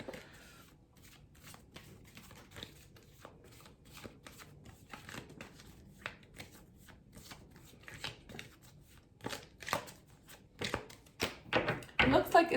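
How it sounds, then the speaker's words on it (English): Tarot cards being shuffled by hand close up, a long run of quick papery riffles and taps that grow louder and denser toward the end. "I was shuffling"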